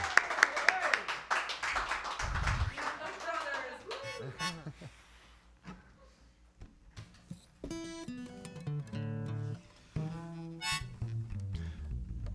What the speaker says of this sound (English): One more round of applause for Mr. Mark Roman.